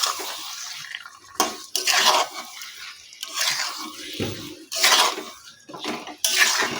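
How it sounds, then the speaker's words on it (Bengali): Marinated chicken stirred into cooked masala in a pan, the spoon scraping and clattering against the metal in repeated close, wet bursts with short pauses between strokes. "এখন আমি যে চিকেনটা মশলা মেখে রেখেছিলাম এর মধ্যে দিয়ে দিচ্ছি। এখন এটাকে ভালো করে এর সঙ্গে মিশিয়ে নেব।"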